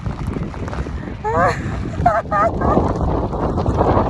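Wind buffets the microphone in loud gusts while people talk nearby.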